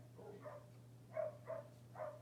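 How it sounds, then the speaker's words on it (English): Dogs barking outdoors in the distance: a few faint, muffled barks in a loose rhythm over a steady low indoor hum, heard from inside. "I guess we can hear the dogs out there."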